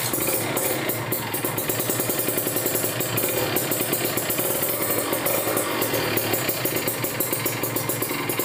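A motorcycle engine fitted with a PWK carburetor runs steadily after starting, a loud, close, continuous clattering idle with a fast regular pulse and no voices over it.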